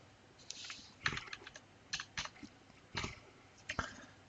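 Typing on a computer keyboard, with irregular clusters of quiet, close key clicks separated by short pauses, sounding alone in a quiet room.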